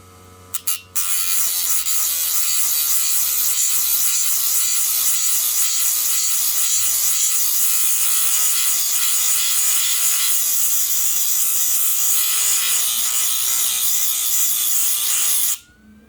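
An automatic facet cutting machine runs at increased speed with a loud, steady high-pitched grinding whir that starts abruptly, holds evenly for about fifteen seconds, then cuts off.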